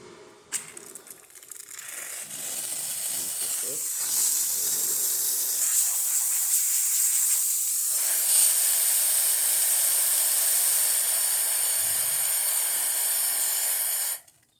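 A loud, steady steam hiss from the steam wand of a Rocket Cinquantotto espresso machine blasts continuously for about fourteen seconds, starting abruptly and cutting off sharply, with faint mechanical clicks at the start.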